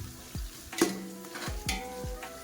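Grated coconut, chili and curry leaves sizzling in hot oil in a pan for a tempering, a steady frying hiss broken by several soft scraping stirs of a spoon against the pan.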